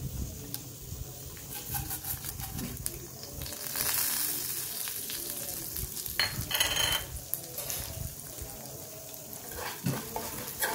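Urad dal fries with mustard seeds and cumin in a pan over a low flame, giving a steady close sizzle. Occasional stirring scrapes and clinks rise over the frying.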